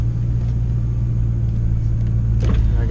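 A Ford Mustang engine idles with the air conditioning running, giving a steady, loud low rumble that holds even throughout, with a brief faint clatter near the end.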